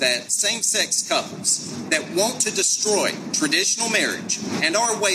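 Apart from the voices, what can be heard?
No distinct noise like a dog, phone or traffic.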